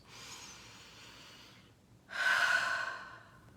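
Two slow, close breaths: a long, soft exhale-like breath, a brief pause, then a louder, fuller deep breath that fades out. No voice is heard.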